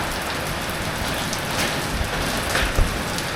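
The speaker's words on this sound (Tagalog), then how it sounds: "Tuloy-tuloy yung ulan. Hindi ako makalabas." Heavy rain pours steadily on a leaking roof, a dense unbroken wash of falling water with occasional louder drips and splashes, with no voices.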